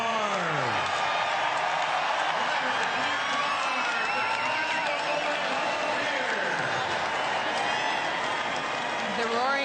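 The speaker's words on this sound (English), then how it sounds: "The roaring of the crowd" A large crowd roars at the grid before the Indy 500, a continuous dense cheer with a commentator talking over it and a public-address voice echoing.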